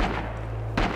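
Two heavy gunshots boom from the World War II shooter Rising Storm on the Iwo Jima map, one at the start and another near the end, over a low background rumble.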